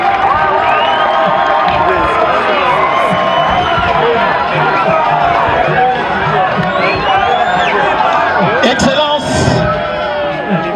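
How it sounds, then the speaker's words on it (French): A large crowd at a university groundbreaking ceremony cheering, whooping and applauding loudly and continuously, with shouts and ululating voices rising over the roar. "applaudir pour notre Ndona."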